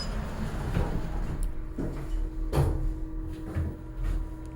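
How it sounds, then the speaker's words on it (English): Elevator cab descending its shaft, a steady low mechanical hum with a faint running tone, punctuated by several brief knocks and rattles from doors that don't close fully, all fairly close and without talk. "You can kind of see the elevator going down because the doors don't close enough."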